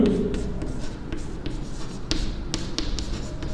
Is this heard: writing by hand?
yes